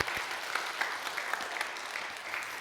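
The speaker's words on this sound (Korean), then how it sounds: "우리 박수 쳐서 들여보냅시다" A church congregation claps together during a revival service, a steady, moderately distant patter of many hands lasting a few seconds without pause.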